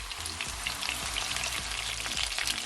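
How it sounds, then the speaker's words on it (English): Chicken pieces frying in a pan for brown stew chicken, a constant loud crackling sizzle with busy popping spatter throughout and no voices. "I'm just gonna allow them to fry it for at least 3 minutes on each side"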